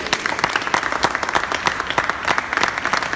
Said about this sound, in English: All together, as loud as you can, big round of applause just to see what happens